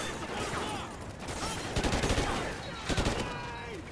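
Gunfire in the video game Call of Duty: Ghosts, with bursts of rapid shots around the two-second and three-second marks over a busy, continuous game soundscape.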